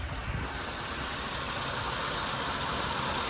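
The 2.5-liter five-cylinder engine of a low-mileage 2010 VW Beetle idles with the hood open, a steady close rumble with a smooth low drone and constant hiss throughout, no voices.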